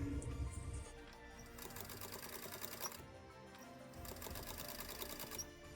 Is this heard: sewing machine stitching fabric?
yes